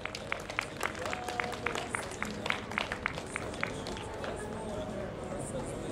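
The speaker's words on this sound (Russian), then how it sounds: "Аплодисменты нашему солисту" Audience applause for a soloist at an outdoor aerobatics show with the Rus flight team, scattered claps ringing over a steady crowd murmur, with a voice talking now and then.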